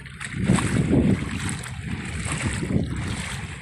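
Floodwater swishes and sloshes in the flooded Bang Kho community along Rama 3 in Bangkok, a close, continuous watery churn with soft rumbling swells.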